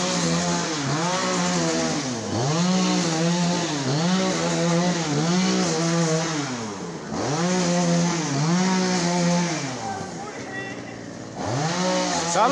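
A loud, nearby chainsaw cuts through wood at a Sibiu market, its engine rising and falling in repeated revving surges that pause briefly between cuts.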